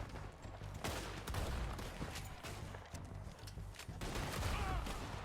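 Rapid gunfire crackles through a Red Dead Redemption shootout, with repeated loud shotgun blasts and other shots in dense bursts that fill most of the clip, close and continuous with no speech.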